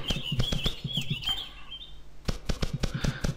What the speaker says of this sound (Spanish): Siempre suenan unos pajaritos, que no sé.